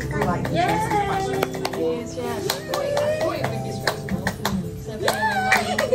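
A girl claps her hands at an afternoon tea at The Chesterfield in Mayfair, with a run of separate, close claps mixed in with ongoing chatter and voices.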